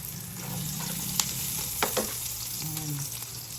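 Garlic and onion frying for pancit canton, a steady close sizzle with a few light stirring clicks and scrapes.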